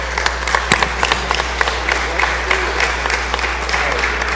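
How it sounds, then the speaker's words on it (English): Applause rising from the floor of a state House chamber as members welcome visitors in the galleries, a dense, steady crackle of many hands over a low electrical hum, loud and sustained. "So please give them a round of applause and make them welcome."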